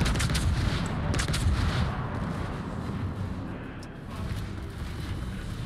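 Naval gunfire from the Swedish battleship Karl XIV Johan in a warship combat game, a dense rumbling barrage of heavy booms and blasts rolling continuously and loudly throughout.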